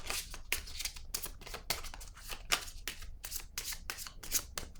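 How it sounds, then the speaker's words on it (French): A card is drawn from a deck of pink cards, giving a run of quick papery shuffling and flicking sounds, close and fairly soft, repeating in short bursts with no talking. "Je vais piger une carte rose ici."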